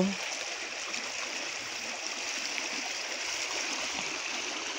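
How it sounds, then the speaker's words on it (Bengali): Water of a rocky mountain river flows in a steady, close, full rush of broadband noise that holds evenly throughout, with no talk over it. "আমাকে তো খুব ভালো লাগে জলের আওয়াজ"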